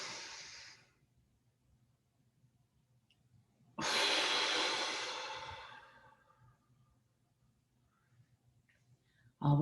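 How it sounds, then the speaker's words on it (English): Deep, slow breathing during a relaxation exercise: one exhale fading out, a quiet pause, then a long, loud breath that tapers away over a couple of seconds, close to the microphone. "a nice deep breath in"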